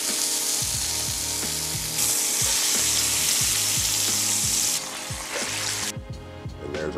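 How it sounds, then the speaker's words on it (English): Homemade cured bacon fries in a cast iron pan with a loud, steady, crackling sizzle and occasional light scrapes and clicks, with no voices. "So we're gonna fry this off in our cast iron."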